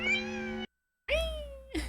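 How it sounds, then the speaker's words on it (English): A cat in a Star Trek original series episode gives two clear meows, the first steady and the second rising then falling, separated by a brief silence. "Oh, the cat."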